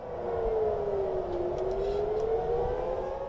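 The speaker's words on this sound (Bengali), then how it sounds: "ইসরায়েলের তেলাভিভ ও জেরুজালেমে সতর্কতামূলক সাইরেনের শব্দ শোনা গেছে" An air raid warning siren in Tel Aviv holds a loud, continuous wailing tone that dips and slowly rises again over a heavy rumbling background, sounding alone with no voices.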